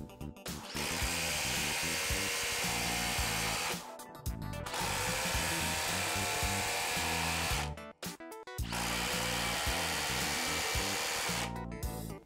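A Milwaukee cordless driver drives a lag screw into wood in three long bursts of loud, close, whining drilling, with short pauses between runs.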